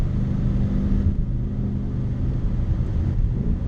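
A Ford Mustang GT S550 with a muffler delete gives a loud, steady, deep exhaust rumble at a constant drone from start to finish, and no one speaks.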